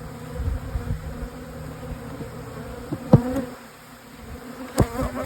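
Honey bees buzz steadily around an opened hive while it is being split, a continuous close drone with a few brief knocks and clicks from handling the hive boxes.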